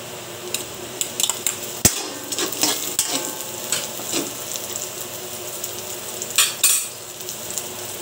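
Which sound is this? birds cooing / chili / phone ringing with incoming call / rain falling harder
chili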